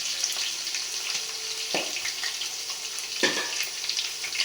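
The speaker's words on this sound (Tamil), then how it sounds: "இது கொஞ்சம் நல்லா வதங்கணும்." Sliced onions sauté in hot oil with green chilies for chicken biryani: a steady, close hiss of frying with two brief scraping stirs.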